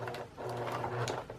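A sewing machine backstitching a purse strap fitted with a D-ring, a brief close-up burst of rapid mechanical stitching with a steady motor whir.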